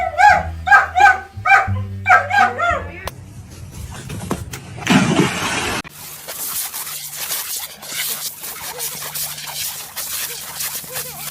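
A dog barks close and loud in a quick run of sharp barks. Then come rustling, a burst of noise and a steady broadband wash.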